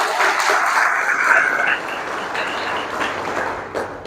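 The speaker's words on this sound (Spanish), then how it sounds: "¿Cuánto puede aplaudir a esta palabra?" Congregation applause during a church discipleship class, a sustained wash of many hands clapping that is loud at first, then eases and continues more softly, with faint voices underneath.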